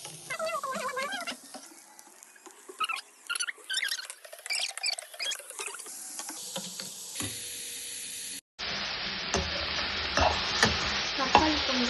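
Tomatoes sautéing in a pan: a stretch of light clinks and scraping gives way to a sudden, steady, loud sizzle that fills the last few seconds, with no talking.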